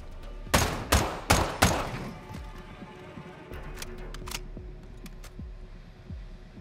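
Shotgun blasts in Call of Duty: Modern Warfare II, with three loud, evenly spaced booms close together at the start, then quieter scattered shots and clicks of other gunfire.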